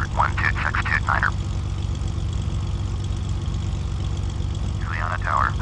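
A Piper propeller airplane taxis toward the runway, its engine idling in a steady low drone throughout, while radio voices talk over it near the start and end.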